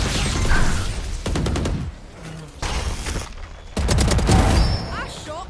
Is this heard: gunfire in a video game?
yes